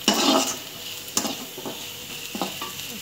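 Onions sautéing in a pan for radish sambar, a steady sizzle with a few scraping stirs of a spoon against the metal, close and alone.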